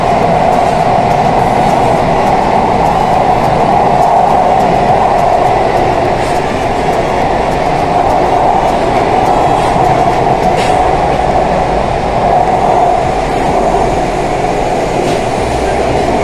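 Kolkata's underwater metro runs between Esplanade and Howrah Maidan, producing a loud, steady rumble and whoosh that fills the crowded carriage throughout.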